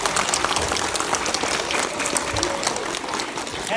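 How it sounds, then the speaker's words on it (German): An audience at a school music event breaks into warm, steady applause, a dense wash of many hands clapping at close range. It holds at an even level from start to finish, with no voices heard. "Applaus für Herrn Senkel"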